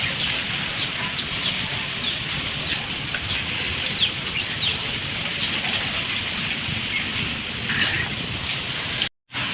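Rain falling steadily outdoors in India, a dense even patter and hiss continuing for several seconds with faint occasional birdsong and a distant rumble, no voices, ending in a brief dropout.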